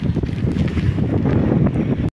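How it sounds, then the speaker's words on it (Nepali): Strong wind with rain rumbles and buffets steadily outdoors in the UK in winter, with low gusty roar close to the microphone, cutting off abruptly at the end. "फेरि हावा चलिरहेको पानी हावा"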